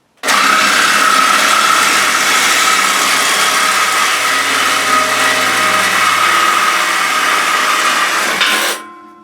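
A battery-powered reciprocating saw with a brand-new plain blade cuts continuously for about eight seconds, loud, steady high buzzing, then stops abruptly.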